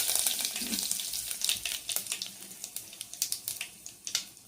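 Curry leaves hit hot oil already holding mustard seeds and cumin for a sambhar tempering, giving a steady crackling sizzle with sharp spitting pops that grow more frequent and rhythmic toward the end, close and fairly loud, with no talking.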